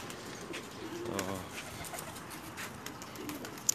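Pigeons in a loft coo softly and intermittently, a few low throaty calls standing out against a faint background with light incidental noise.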